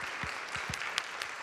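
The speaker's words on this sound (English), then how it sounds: "round of applause." Warm audience applause closing a program, a soft, distant-sounding patter of many hands with a few sharper individual claps and faint murmuring voices underneath.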